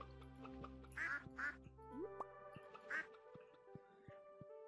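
Ducks quacking in the farming game Stardew Valley, three or four short nasal quacks spaced out over light background music and game chimes.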